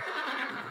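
A horse neighs as a sound effect in an audiobook, giving a short, loud, breathy whinny that fills the whole brief moment on its own.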